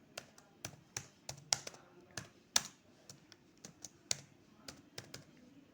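Typing a new user's full name on a computer keyboard during a Kali Linux install: separate, distinct key clicks at an uneven pace, close and fairly crisp, with nobody talking.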